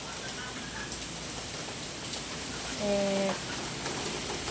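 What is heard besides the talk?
heavy rain during a typhoon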